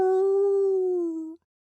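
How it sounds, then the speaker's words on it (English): A wolf howl from a children's storytime podcast, a single clear sustained tone near the listener, steady then slightly falling before cutting off abruptly, alone. "That sounds a lot like the big bad wolf."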